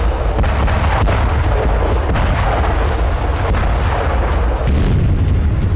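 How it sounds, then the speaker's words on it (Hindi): Cluster bomb explosions on the Russia–Ukraine front, a dense continuous barrage of booms and crackling bursts merging into a loud, unbroken roar with no voices. "इनके धरती से टकराते ही एक साथ सैकड़ों विस्फोट हुए और तबाही मच गई"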